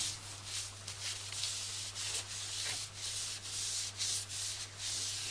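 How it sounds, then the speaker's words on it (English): A finishing wipe is rubbed along a cork fishing rod handle during cleanup. It makes soft, rhythmic scrubbing strokes over a low steady hum, close and alone. "To clean up, wipe the whole handle with one of the finishing wipes."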